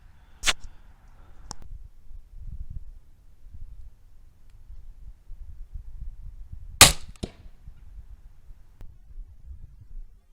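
A Barnett crossbow shot at a target 30 yards out gives a sharp release snap near the start, then a loud, crisp impact crack around the middle with a short rattle after it, set against a quiet outdoor background.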